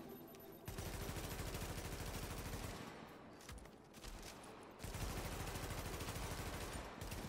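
Sustained rapid gunfire from shooter The Division, continuous bursts that drop out briefly in the middle and around three seconds before resuming loudly, with no talk.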